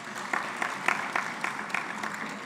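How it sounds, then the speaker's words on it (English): An audience at an education sector conference applauds a commission, many hands clapping at a moderate level with a loose rhythmic pulse, heard from a little distance with no voices over it. "Let's give Commission 5 a very big round of applause"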